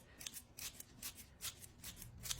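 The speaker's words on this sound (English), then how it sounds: "to continue with our kitchen scissors, I have a whole thing of fresh basil here" Quick, crisp snips of kitchen scissors cutting fresh basil close by, a rapid series of small cuts in an uneven rhythm.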